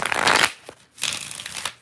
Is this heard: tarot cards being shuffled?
yes